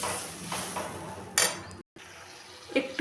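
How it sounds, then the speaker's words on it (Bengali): Water is poured from a vessel into a pot of vegetable lentil dal with cashews, raisins and green chilli, a brief splashy pour amid quiet kitchen clatter and a short clink, no voices. "একটু জল দিলাম"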